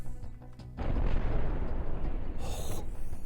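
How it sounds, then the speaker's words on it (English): Railgun fire and explosions in the space game Cosmoteer, a dense booming roar that bursts in and rumbles steadily, with a hissing burst near the end. "Railgun fire again."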